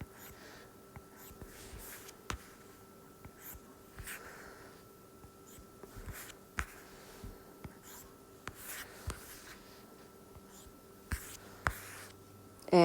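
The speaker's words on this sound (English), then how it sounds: "here's where you're going to do like just some basic perspective sketching." A stylus sketches a basic coffee table in perspective on a drawing tablet, making faint, close scratchy strokes with small taps spread steadily throughout, with no talking.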